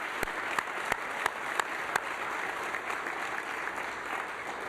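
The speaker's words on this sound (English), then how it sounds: "please join me again in giving another round of applause to all 5 of this year's award winners" An audience at a corporate award ceremony gives sustained applause, steady and a little distant, with a few sharper claps standing out near the start.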